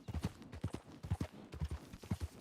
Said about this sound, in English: the normal horse riding pace where you're not pushing your stamina the whole time